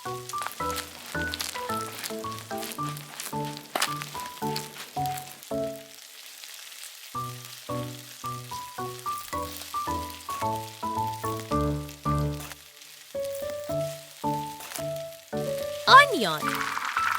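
Baby octopus stir-frying in cooking oil in a miniature kitchen, a hissing sizzle broken into short repeated bursts, with a voice talking over it.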